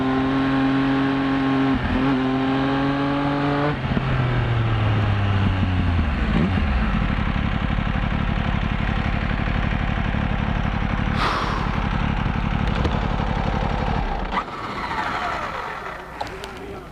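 A loud motorcycle engine at a 1980s–90s motorcycle reunion revs up through rising gears and roars past, then fades, with a brief burst of noise near the end.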